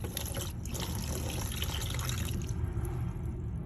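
Water pours steadily onto a compressed coco coir brick, making a continuous trickling, splashing fill with small drips throughout, close and even in level, with no talking.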